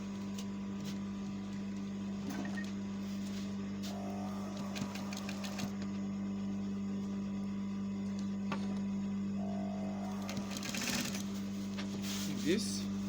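A sewing machine stitches a collar seam in two short, faint runs of rapid needle clatter over a low steady hum.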